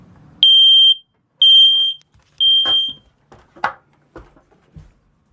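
Interconnected smoke detector under test, sounding three loud piercing high-pitched beeps close by, each about half a second long, followed by faint handling clicks.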